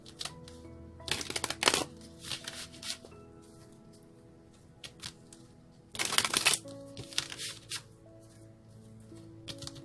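Tarot cards are shuffled in two quick riffling bursts, separated by quieter handling and light tapping, close up with no talking.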